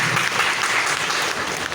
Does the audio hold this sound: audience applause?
yes